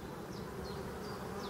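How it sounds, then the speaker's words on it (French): Black honey bees buzz around a hive in spring, a soft, continuous insect drone with individual bees whizzing past close by, faint overall and with no voices. "je vois de plus en plus d'abeilles dehors"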